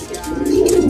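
Pigeons coo steadily inside a loft in San Ildefonso, Bulacan, a continuous low, throaty murmur from several birds close by, with no talk over it.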